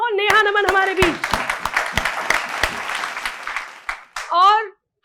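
An audience at a poetry gathering applauds briefly; scattered claps sound under a speaking voice before fading out near the end.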